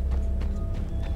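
A Gypsy Cob horse in Red Dead Redemption, at the Saint-Denis cemetery, gives a brief burst of rhythmic hoof clip-clops, loud and close, with no talk over it.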